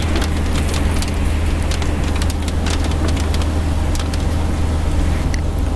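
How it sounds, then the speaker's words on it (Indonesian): Steady rain drums on a car, heard from inside the cabin as a dense, continuous patter with a low rumbling hum beneath, no voices present. "Hujannya masih lama ini."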